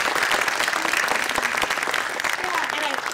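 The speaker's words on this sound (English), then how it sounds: "Let's give them a round of applause." An evening public health talk at a museum, where an audience gives a full, continuous round of applause, loud and dense throughout with a murmur of crowd voices beneath.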